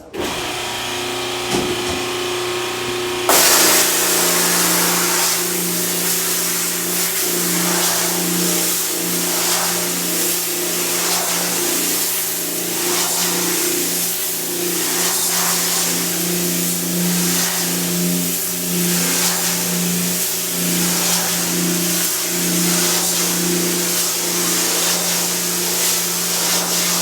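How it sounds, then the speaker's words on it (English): Water sprays steadily to rinse ink off a screen printing screen during screen reclaiming at a print shop, with a loud continuous hiss that starts abruptly after a few seconds and runs on without pause. "Let's spray this out."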